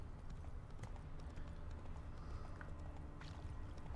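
Horse hooves clip-clop in The Witcher 3 video game, a steady walking rhythm of quiet hoofbeats over a low ambient rumble, with no one talking.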